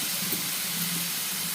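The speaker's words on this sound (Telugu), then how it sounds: "ఆయిల్ వేడైన తర్వాత 5 టమాటాలను పీసెస్లా కట్ చేసి వేసుకోవాలి" Five cut tomato pieces hiss and sizzle in hot oil in a pan while cooking a fenugreek-leaf chutney, a steady close frying hiss with faint soft pops.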